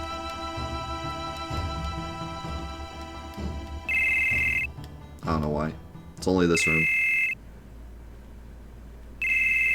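Final Fantasy VII in-game telephone ringing, with electronic beeping rings repeating in bursts over the game music, loud and close, while a person talks over it.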